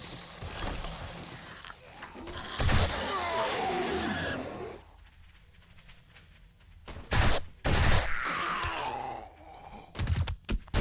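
MP5 fire in 7 Days to Die comes in separated bursts, short loud volleys with quieter gaps and groaning game noise between them.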